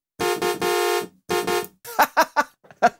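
A Native Instruments Massive X synthesizer blares several short, buzzy horn-like honks in uneven bursts, imitating a car horn, followed by a few quick choppy toots.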